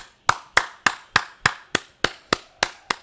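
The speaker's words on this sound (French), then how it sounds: "Là, vous croyez que c'est moi qui applaudis? Non, non. C'est les supporters de Retafe" Getafe supporters in a football video game do a slow rhythmic clap, about ten sharp, evenly spaced claps roughly every third of a second, with near silence between them.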